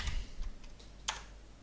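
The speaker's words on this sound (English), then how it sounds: "So I'm gonna be typing in desk here." Faint, sparse clicks of keys being typed on a computer keyboard, a few separate taps with one sharper keystroke near the end, quiet against a soft background hum.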